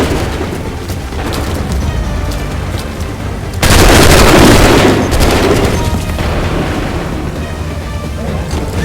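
Battle in Assassin's Creed III: dense volleys of musket gunfire and booming cannon shots, loud and close, with a heavy burst of explosions in the middle and continuing crackling fire afterward.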